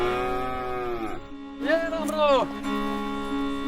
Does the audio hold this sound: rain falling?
no